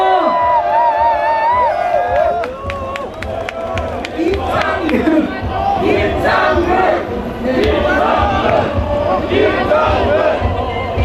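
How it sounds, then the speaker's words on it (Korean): A large crowd at a citizens' rally for democracy cheers, whoops and claps loudly to welcome a pastor to the stage, with shouting voices and dense clapping throughout. "큰 박수로 맞이해 주십시오"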